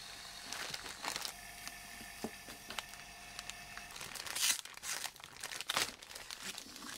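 A plastic sheet crinkles and rustles in scattered handfuls as it is laid over a carbon-fibre catamaran deck part for vacuum bagging, with soft crackles and a few sharper rustles.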